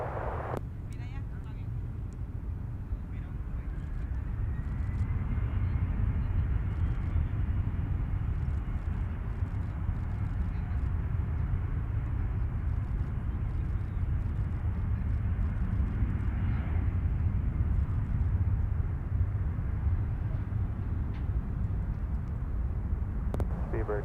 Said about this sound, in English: left, clear for takeoff